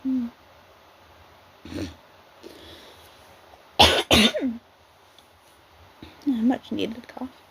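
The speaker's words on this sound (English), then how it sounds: "Much needed cough." A person coughs several times, short harsh bursts close to the mic, with a throat-clearing sound and some voiced sounds between quiet gaps.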